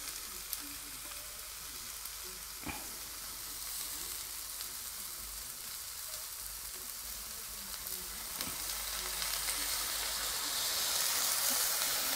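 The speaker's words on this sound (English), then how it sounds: "I'll stir that round." Vegetables from an out-of-date Chinese-inspired stir fry mix frying in a pan with 2010 soy sauce: a steady, close hiss and sizzle throughout, with a few soft stirring knocks and no voices.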